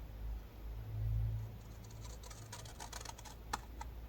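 Blade or scissors cutting along a scored fold line on a paper chocolate box, a faint, close run of soft crisp snips and rustles, with a few sharper clicks toward the end.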